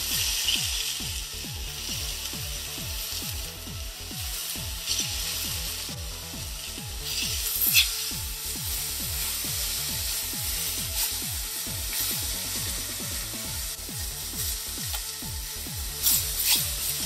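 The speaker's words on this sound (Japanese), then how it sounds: "側面もしっかりと焼いていきましょう。" Roast beef sears in a hot pan with its sides being browned, a steady close sizzle and crackle running throughout with no talk.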